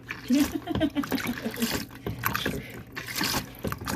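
Small electric flush pump on a Thetford 345 Porta Potti portable toilet pushing water through, a gurgling trickle heard close up with a person speaking over it.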